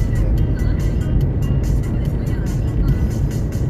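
A car cruising along the Dammam Khobar Highway gives a loud, steady low rumble of engine and tyre roar inside the cabin, constant and unbroken, with a voice talking over it.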